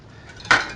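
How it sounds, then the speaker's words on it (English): A utensil stirring meat in a pan on medium-high heat, heard as one short, sharp metallic scrape and clink up close, with no talking. "Give this meat a stir."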